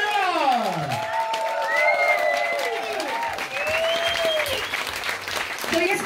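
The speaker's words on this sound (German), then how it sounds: "Und das ist auch mal ein riesen Applaus" Big applause from a pub audience at a Christmas party in Cologne's Constantin Pub, steady and loud throughout, with sung or held voices and cheering woven over the clapping.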